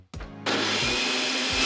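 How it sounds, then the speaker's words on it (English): A kitchen blender switches on with a short startup whir and then runs loud and steady, a continuous motor roar that holds without a break to the end. "I've even got a remote for my blender."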